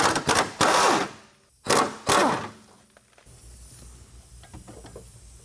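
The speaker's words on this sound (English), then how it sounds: "We're going to remove those 2 bolts using a 15 millimeter." Two bolts on a trailing arm of a 2022 Ford Maverick being loosened with a 15 mm wrench during a lift kit install, a few sharp ratcheting and clanking bursts up close, then quieter shop background.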